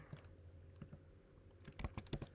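Computer keyboard keys are tapped in a few scattered quiet clicks, then a quicker cluster of close keystrokes, with no talk.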